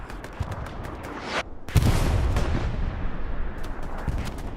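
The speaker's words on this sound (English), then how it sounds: "especially with that artillery coming in hot." Incoming artillery on Utah Beach in the WWII shooter Hell Let Loose, with a sharp crack followed by a heavy rumbling blast that lingers, over scattered distant gunshots.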